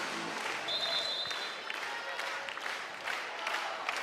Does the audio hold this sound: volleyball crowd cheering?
yes